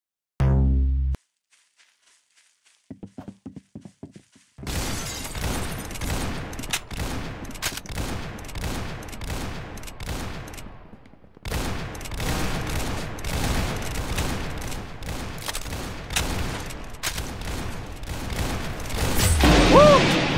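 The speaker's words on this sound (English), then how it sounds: "That's some beautiful shooting right there." Video game gunfire rattles in long, dense automatic bursts that fill most of the stretch after a short gap, loud and close, with a brief break midway before another sustained volley.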